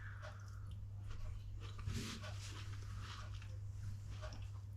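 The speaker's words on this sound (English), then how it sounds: "The apple does have a bit of a crunch to it" Someone bites into and chews baked apple from an apple crumble, the apple still slightly firm; soft, close crunching and wet mastication sounds over a low steady hum, with no talk.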